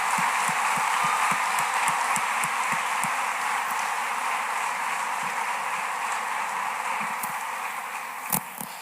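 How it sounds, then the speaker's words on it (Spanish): Sustained crowd applause fills a church, a dense, steady wash of many hands clapping throughout, gradually easing toward the end with a brief louder burst near the close. "Dale fuerte tu aplauso"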